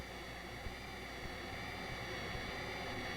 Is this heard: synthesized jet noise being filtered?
yes